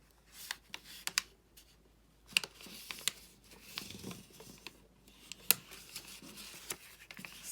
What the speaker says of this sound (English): And you're going to fold this end